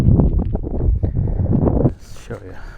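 Wind gusting across a desert BLM campsite near Quartzsite, Arizona, with a steady low rumble buffeting the microphone under a voice that talks through the first two seconds before the wind eases.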